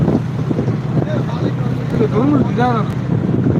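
Diesel engine of a passenger launch running with a steady low drone under wind buffeting and water noise, while people talk faintly in the background.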